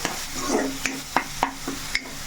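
Onion masala frying in a pan for egg curry, a steady low sizzle broken by several sharp scrapes and taps of a spoon stirring, with no talking.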